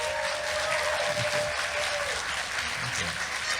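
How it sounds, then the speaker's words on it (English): A horror convention crowd applauds the Terrifier cast, a dense spread of clapping that continues steadily, with a voice briefly heard through it. "how about a round of applause for these guys?"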